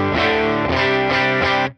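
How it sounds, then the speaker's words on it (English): An electric guitar through a Benson preamp into a UAFX Woodrow 55 amp, with drive added, plays a short loud strummed chord phrase with three accented hits before cutting off abruptly. "That's the Benson preamp."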